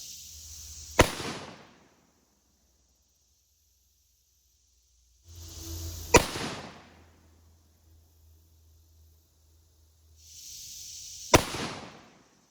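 A rifle fires .223 bullets at a .45 caliber bullet. Three sharp, loud cracks come about five seconds apart, each with a short broadband tail and a steady hiss between shots.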